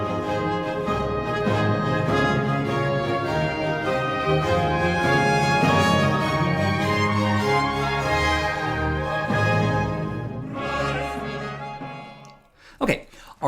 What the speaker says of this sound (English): let's hear the original again. And don't forget to listen for those red suspensions in the trumpets.